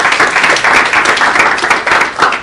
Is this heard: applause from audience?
yes